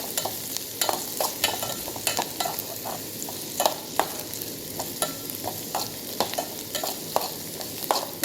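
Boiled carrots, beans and capsicum stirred in a pan, with a steady run of quick scraping strokes over a soft, continuous sizzle, close and clear with no talking.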